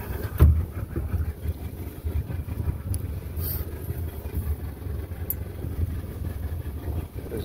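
A 125 Mercury outboard motor on a Neptune 180 boat runs at a steady low drone, with wind and water noise mixed in and one sharp knock near the start. No one speaks.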